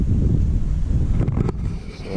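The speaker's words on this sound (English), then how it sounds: "it's a nice, beautiful, windy day here in Alabama" Gusty wind blowing outdoors on a spring day in Alabama, a steady loud rumble buffeting the microphone throughout, with brief dips and flutters near the end.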